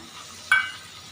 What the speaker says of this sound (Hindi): अब मैं इसके अंदर डालूँगी टमाटर और हरी मिर्ची, जिनको मैंने बारीक बारीक चॉप कर लिया।